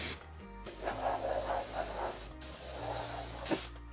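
Steady air hiss from a paint spray gun during a dry practice pass before painting a Jeep part, close and continuous, with the airflow shifting in tone a few times.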